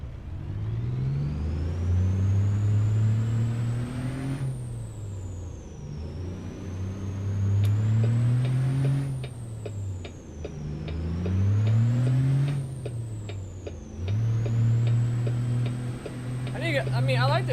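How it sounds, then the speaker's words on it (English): A truck engine in a driving video game repeatedly revs up through the gears, rising and dropping in pitch across several shifts, with occasional ticking and a brief air-brake hiss near the end, under a person talking. "I like the way the engine sounds"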